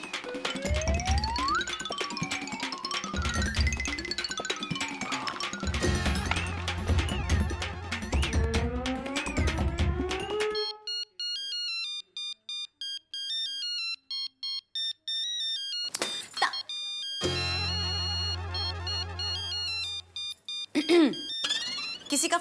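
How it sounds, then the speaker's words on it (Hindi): A mobile phone rings in a scene of the sitcom Taarak Mehta Ka Ooltah Chashmah, a melodic ringtone of repeating beeping tones, preceded by busy music and voices and followed by clear tonal ringing with a few short pauses. "किसी का फोन बज रहा है।"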